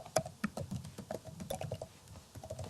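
Quick, light keystrokes on a computer keyboard, close and quiet, tapped in an irregular run of clicks for a few seconds with no talk.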